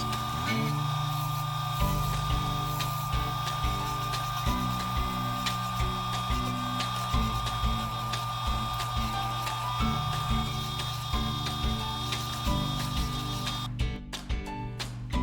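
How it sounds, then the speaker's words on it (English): A belt sander grinds a Harbor Freight hatchet head, giving a steady, loud motor drone with a constant tonal whine throughout. A brief rougher burst comes near the end. "Turn on the old belt sander."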